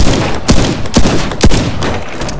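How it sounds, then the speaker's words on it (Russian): Shotgun blasts in the video game Warface, three loud sharp booms spaced about half a second apart, close and punchy with a short tail after each. "Ваншотный дробовик на близкой дистанции неплохо ваншотит"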